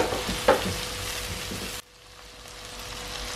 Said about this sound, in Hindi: थोड़ा टमाटर भून के फिर आलू डाल दूंगी साथ।